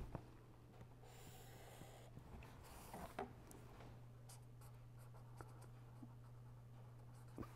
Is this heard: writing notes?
yes